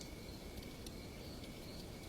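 Crickets chirp steadily in a dense, continuous night chorus, a constant even wash of insect trilling with no other sounds.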